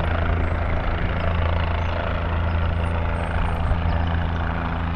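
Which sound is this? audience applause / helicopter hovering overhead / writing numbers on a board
helicopter hovering overhead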